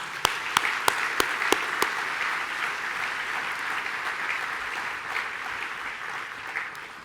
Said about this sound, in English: Big round of applause for Nate Burleson.